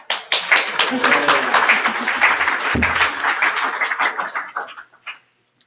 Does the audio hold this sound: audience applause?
yes